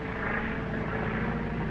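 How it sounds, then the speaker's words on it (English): A government plane drones overhead, a steady, moderately loud engine hum with no pauses and no voices. "It's a government plane."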